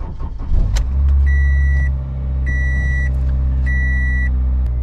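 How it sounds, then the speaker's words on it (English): A car engine cranks briefly and catches, settling into a steady low idle, while a dashboard chime beeps three times in a repeating pattern, close inside the vehicle. "Okay, now let's start the engine."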